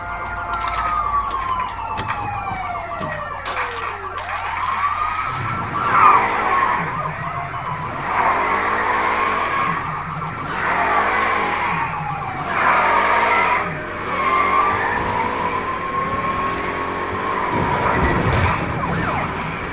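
A car speeding through the Mafia III video game, engine roaring and tyres skidding through repeated swerves while police sirens wail continuously in the background, loud and close throughout.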